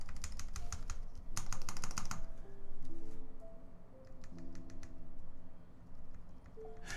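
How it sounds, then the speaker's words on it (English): A keyboard stabilizer on a Keycult No2 board with Cherry MX Vintage Black switches is pressed to test for wire rattle, giving close, crisp clusters of clicks and taps in uneven bursts with short pauses. "You push the stabilizer down halfway and then you push it down the rest of the way so that you don't get any keycap sound"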